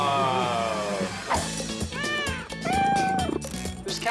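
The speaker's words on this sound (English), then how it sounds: "cats everywhere in this place." Several cats meow up close in a themed restaurant, with rising and falling yowls that come in uneven bursts, some overlapping, over faint room background.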